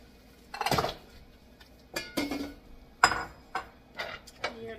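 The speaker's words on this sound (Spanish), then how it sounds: "Voy a agregar primeramente los huesos." Pork bones dropped one after another into a pot of boiling water with garlic, giving several separate clunks and splashes spaced a second or so apart, close and moderately loud with quiet gaps between.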